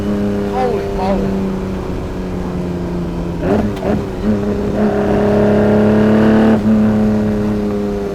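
A Ferrari 250 GT Berlinetta Lusso's engine revs up and holds a loud, steady drone, with a brief throttle blip midway before building again, while someone talks over it.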